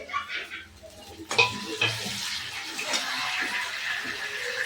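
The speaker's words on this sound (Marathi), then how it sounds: "आपलं लसूण चांगला तळलेला आहे त्यात आता आपण टमाटर टाकूया" Chopped tomatoes go into a pan of frying garlic, a sudden clatter followed by a steady close sizzle with some stirring scrapes.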